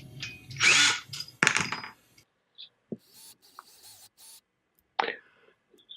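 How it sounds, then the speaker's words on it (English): Power drill boring a pilot screw hole into wood while assembling an upcycled musical artwork, several short whirring bursts with pauses and small handling clicks between, close and moderately loud. "I'm going to go ahead and drill out the screw hole"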